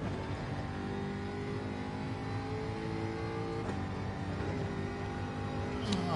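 A Gran Turismo 7 race car driven steadily to warm its tires, its engine droning continuously at an even, close pitch with gentle rises in revs and no voices.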